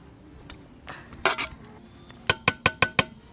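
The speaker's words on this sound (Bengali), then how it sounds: "এবার চালিয়ে নেব একটু।" A metal spoon scrapes and clinks against a pot while mutton biryani rice is stirred, starting with scattered soft scrapes and ending in a run of five sharp, evenly spaced clinks close by.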